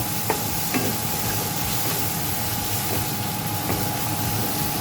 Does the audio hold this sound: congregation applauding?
no